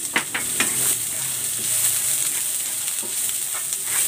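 Garlic and onion sauté in a pan for lumpiang togue, producing a bright, continuous hiss of hot oil broken by a few light clicks of a stirring utensil, with no voices.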